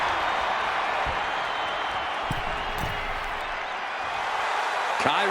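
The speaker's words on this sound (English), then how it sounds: "Kairi Sane getting the crowd riled up right now." A video game crowd in the WWE 2K25 wrestling game roars in a steady, dense wash of cheering, with a few faint thuds and slams scattered through and a louder hit near the end.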